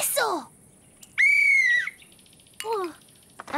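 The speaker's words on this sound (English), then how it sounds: "My whistle!" A cartoon whistle blown outdoors in a few separate toots, with a steady shrill tone in the middle between sliding squeaky notes, close and fairly loud.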